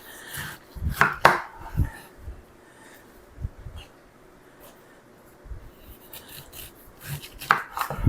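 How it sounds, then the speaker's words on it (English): Knife chopping through diced pineapple on a cutting board, a few close, sharp cuts in quick bursts separated by quieter gaps. "now we just need to finish cutting up the pineapple"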